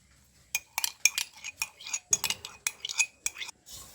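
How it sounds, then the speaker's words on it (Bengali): Naan dough ingredients stirred dry with yogurt in a bowl, a run of quick, close clinks and scrapes of a utensil against the bowl in irregular bursts. "শুকনো অবস্থায় আমি ভালোভাবে মিশিয়ে নেব।"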